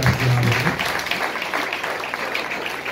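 A congregation applauds at a church gathering, a dense, steady wash of clapping that holds at an even level throughout, with faint voices underneath.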